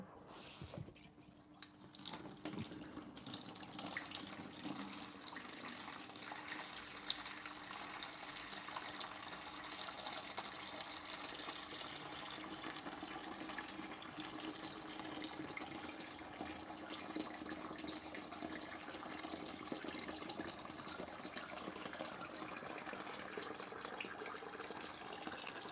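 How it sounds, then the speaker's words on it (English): Continuous running water during an aquarium water change, a steady hiss and trickle with faint drips that carries on evenly for the whole stretch with no voices. "I'm going to pause the water change a second, turn the heater off."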